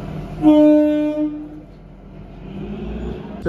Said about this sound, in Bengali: এখানে যে টয় ট্রেন তো চলে এসছে আমাদের